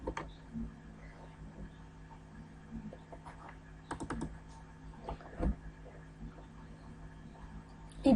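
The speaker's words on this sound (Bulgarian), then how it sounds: "И пишем." Computer keyboard being typed on in scattered soft keystrokes with small pauses, close and fairly quiet, set against a low steady room hum.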